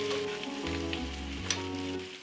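Goat meat with turmeric and paprika frying in a pan just after a stir, a steady close sizzle with a low hum running underneath and no talking.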